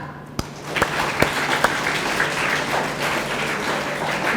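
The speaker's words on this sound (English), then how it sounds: "Give her a clap." Audience applause at a career guidance program, a broad steady wash of clapping in a hall with a few sharper claps standing out at the start, holding evenly throughout.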